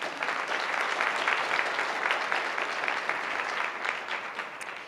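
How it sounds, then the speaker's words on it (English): An audience at a civic forum luncheon gives a warm round of applause, dense and steady clapping from many hands that carries on evenly and tapers slightly at the close. "Please join me in a warm round of applause for all of them."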